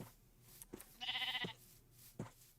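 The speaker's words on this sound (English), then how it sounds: "Come here, sheep." Single sheep bleat in Minecraft, a short wavering nasal call of about half a second amid quiet game clicks and footsteps, fairly faint with no talking.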